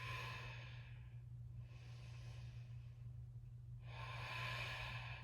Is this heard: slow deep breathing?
yes